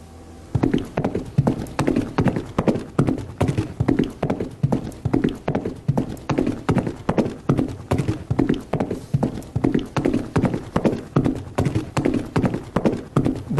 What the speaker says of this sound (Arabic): صوت حوافر حصان، الجالوبريزم بتاع بتاع الحصان